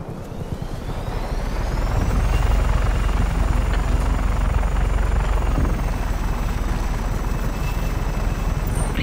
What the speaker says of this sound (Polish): złotego helikoptera.